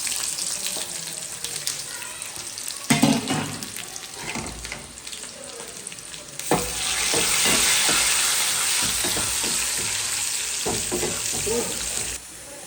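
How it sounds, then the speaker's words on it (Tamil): Mustard seeds and onion frying in hot oil for a fish curry, a steady broadband sizzle swelling louder midway and holding, with occasional stirring scrapes and brief crackles, no talk. "எண்ணெய் காய்ஞ்சிட்டு கடுகு போட்டுக்கணும் வெங்காயம் போட்டுக்கணும்"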